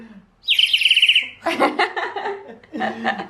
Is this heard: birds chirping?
yes